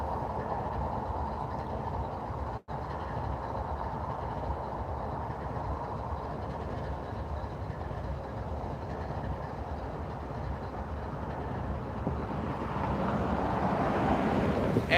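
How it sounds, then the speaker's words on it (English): A southbound Norfolk Southern train approaches on the AGS line at a grade crossing: a steady low rumble and rail noise that builds slowly and grows louder toward the end, with a brief dropout early on. "AGS line, southbound, Norfolk Southern, coming at us"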